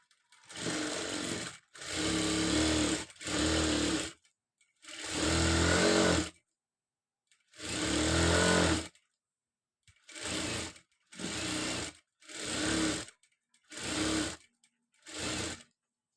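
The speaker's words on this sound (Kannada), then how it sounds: "ಇನ್ನು ಈ ಸೈಡು ಸ್ಟಿಚ್ ಮಾಡೋಣ." A sewing machine stitches the side seam of a dress in about ten separate close bursts, the longer runs early and shorter, quicker ones near the end, each a loud mechanical rattle separated by silence.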